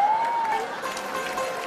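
Audience applause at an award show honoring the Jodha Akbar cast. A steady, dense wash of clapping runs the full length at moderate loudness, with a faint tone gliding briefly over the start.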